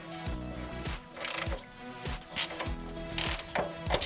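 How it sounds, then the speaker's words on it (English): A small wrench ratchets in quick bursts of sharp clicking while loosening the oil filter on a 2004 Subaru WRX STI, close and fairly quiet, with brief pauses between strokes. "now we got that tight, so we can get our oil filter off of here. I like to use these little wrenches"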